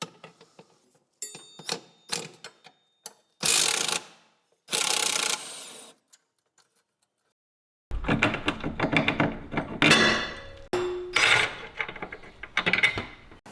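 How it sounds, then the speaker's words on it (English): A ratchet socket wrench loosens the toe arm bolts on a Nissan 350Z subframe, with bursts of rapid close clicking separated by pauses and handling clatter. "remove the toe arm bolts from the subframe"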